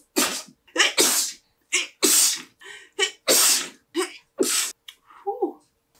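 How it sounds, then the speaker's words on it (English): A person with spring allergies sneezes several times in a row, each sneeze a sharp, loud, close burst separated by short pauses, with a little voice near the end. "I have to sneeze again."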